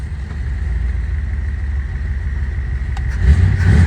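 A 1958 Edsel hardtop's engine idles with a deep, steady low rumble, then swells louder near the end as the car works in its non-synchronized low gear; no talking.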